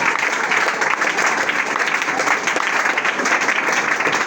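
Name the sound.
congregation applauding at prayer meeting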